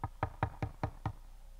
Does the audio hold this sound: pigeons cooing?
no